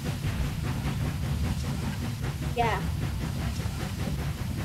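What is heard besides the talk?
train moving in video game Human Fall Flat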